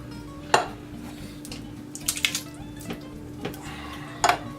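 Tomato sauce and Rotel are stirred in a pot on medium heat, with a spoon scraping and giving a few sharp clinks against the metal over a quiet kitchen background.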